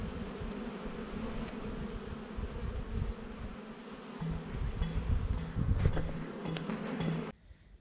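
Honeybees buzz around a hive on a Portuguese farm, a dense, constant drone with individual bees passing close by now and then.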